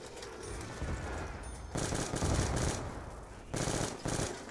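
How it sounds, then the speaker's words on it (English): Rapid automatic gunfire in Black Ops 2 Zombies, dense continuous bursts with louder surges, close and steady for several seconds with no speech. "I am just firing everywhere."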